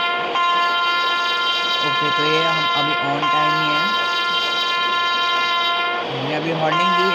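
A WAP7 electric locomotive on the Mumbai to Vadodara line sounds its horn over a continuous loud tonal drone, the horn rising and falling in short wavering blasts, with a voice briefly heard.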